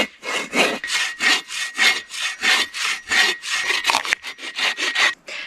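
Wood being sawn by hand for firewood at a bushcraft camp, with loud, steady back-and-forth strokes, about two per second, close up and without talk.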